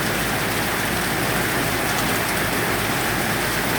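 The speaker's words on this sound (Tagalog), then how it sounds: "Lakas ang ulan, Dudong." Heavy typhoon rain pours down steadily and loudly in a dense, unbroken hiss with no pauses throughout.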